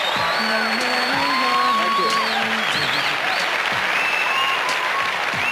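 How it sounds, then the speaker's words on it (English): Audience applause for David, steady and full across the hall, with voices and tonal sounds layered over the clapping. "For now, David takes his applause."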